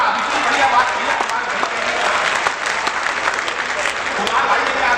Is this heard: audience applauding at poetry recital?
yes